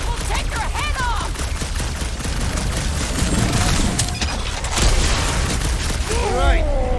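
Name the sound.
big guns firing in Guardians of the Galaxy video game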